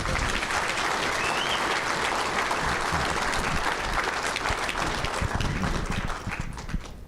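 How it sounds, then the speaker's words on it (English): Steady, dense audience applause at a banquet and awards ceremony fills the room from start to finish, loud and continuous, tapering slightly in the final second. "Let's give them one more round of applause."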